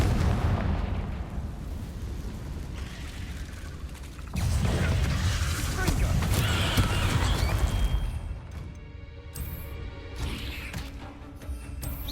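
A Confringo spell explosion from the Hogwarts Legacy video game bursts in with a loud, dense blast after a mechanical, creaking game ambience, then a rumbling tail and sparkling debris sounds fade over several seconds.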